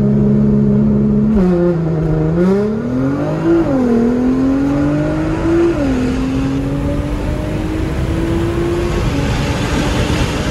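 A 600 whp all-wheel-drive Nissan GT-R accelerates hard on a road, its engine note climbing through several gear changes, loud and close from inside the car, with no talk.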